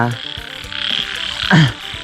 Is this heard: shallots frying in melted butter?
no